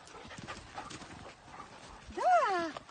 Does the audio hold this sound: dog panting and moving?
yes